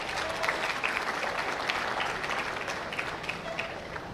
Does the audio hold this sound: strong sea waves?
no